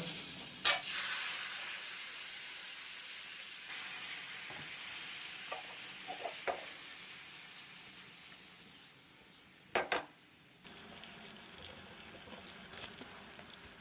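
Chicken breast fries in butter on a flat tawa, giving a steady bright sizzle that slowly fades, with a few sharp clicks and scrapes of utensils.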